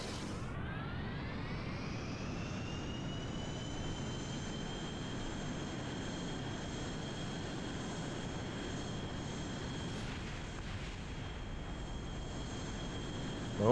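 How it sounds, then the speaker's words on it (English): Steady, loud roar of an aircraft engine in Kerbal Space Program during a VTOL craft launch attempt, a rising whine settling into a constant drone that holds unbroken for the whole stretch, with no talk. "Let's see if it launches as a regular aircraft."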